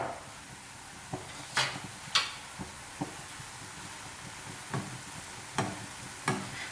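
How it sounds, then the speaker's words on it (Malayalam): Paal paniyaram frying in oil, a faint steady sizzle broken by several sharp clicks and taps from a utensil against the pan, quiet and close, with no voices. "ഇത് എല്ലാ ഭാഗവും ഒരുപോലെ തന്നെ ഫ്രൈ ആയിട്ട് വന്നോട്ടെ കേട്ടോ"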